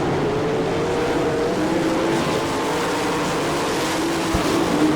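A pack of sprint cars racing at Attica, Ohio, roars as a dense, continuous engine drone from a distance, with overlapping engines and slight pitch swells as cars circle the track.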